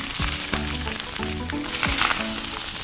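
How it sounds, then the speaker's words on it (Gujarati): A hot pot dish of soup sizzles loudly and steadily, a dense crackling hiss with a few brief louder bursts, close and alone without talk. "સરસ સિઝલિંગ ઇફેક્ટ આવી રહી છે."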